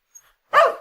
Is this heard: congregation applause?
no